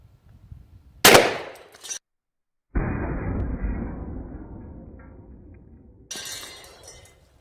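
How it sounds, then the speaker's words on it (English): A 1-ounce 12-gauge 2¾-inch shotgun slug fired through a hard drive: one loud, sharp blast with a shattering crack, a short gap, then a long decaying rumble and a final clatter, with no talking. "now we're going to try our shotgun slug. It's a 1 ounce slug out of a 12 gauge"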